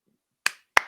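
Two sharp, crisp hand claps ring out alone against silence, evenly spaced about a third of a second apart, each with a short bright decay.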